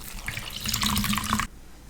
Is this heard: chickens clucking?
no